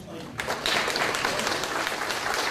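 Applause from an audience at a public forum on I-73, a steady crowd clapping that starts abruptly and holds loud, with a voice briefly speaking over it.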